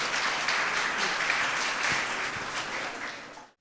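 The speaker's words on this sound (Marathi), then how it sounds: "खूप टाळ्या होऊ." An audience claps continuously at a school annual social gathering, a dense, even wash of applause that fades out at the end.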